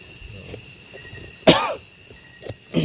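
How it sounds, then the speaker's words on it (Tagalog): A single sharp cough bursts out mid-clip, loud and close, with fainter throat sounds and soft coughs before and after it over a quiet background. "Ubo."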